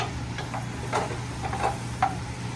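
A spoon stirring flour into béchamel sauce in a pan for mac and cheese, soft scraping strokes and light ticks against the pan over a low steady hum, fairly quiet with no talk.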